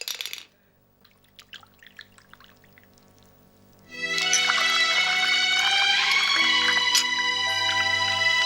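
Drinking water poured in a steady, loud splashing stream that starts abruptly and runs unbroken to the end, following a few seconds of quiet with faint clinks.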